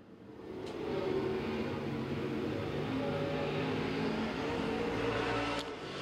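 A sportsman late model race car runs a lap at Crossville Speedway, its engine swelling into a sustained, loud, rumbling roar that holds steady as it circles the track, heard from a distance with no talking.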